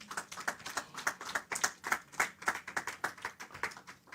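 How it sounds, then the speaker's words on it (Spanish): Church congregation applauding, a quick even patter of many hands clapping steadily throughout, moderately close and at modest volume. "Denle un aplauso al Señor."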